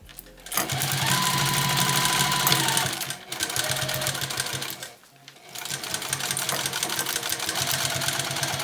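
Sewing machine stitching a bag strap, loud and close, running in a fast steady chatter, pausing briefly twice before starting up again.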